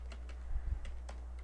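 Short bursts of quiet keystrokes on a computer keyboard, a few clustered taps with brief gaps, close and soft against a low steady hum.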